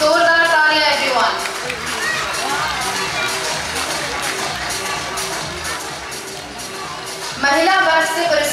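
Audience at a CWC Foundation Day award ceremony applauds and cheers loudly and steadily as prizes are handed out, a dense roar of clapping and crowd noise with music swelling at the start and end.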